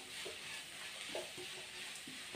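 Onions frying in a pan make a quiet, continuous sizzle, broken by a few soft stirring clicks and scrapes, with no speech.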